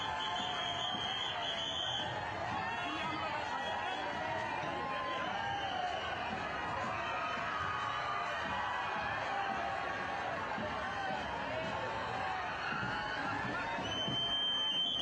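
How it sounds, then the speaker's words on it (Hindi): A roadside crowd cheers along a flag-waving procession route in Ahmedabad, a steady, dense wash of voices and whoops that holds throughout, with a voice talking over the noise. "सड़क के दोनों किनारे भी लोगों का हुजूम है"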